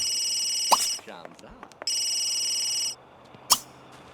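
A telephone rings in two long electronic bursts with a short gap between them, loud and close, with a sharp clack and brief voices nearby.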